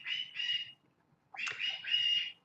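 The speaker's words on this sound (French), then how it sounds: "C'est dur d'engueuler un oiseau" Bird chirps in two short bursts of rapid, bright tweeting separated by a pause, fairly close and clear over a quiet background.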